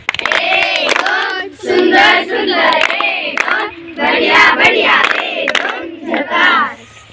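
A school audience shouts and cheers loudly in repeated bursts of massed voices, with some hand noise mixed in; the crowd is close and the voices dominate over any clapping.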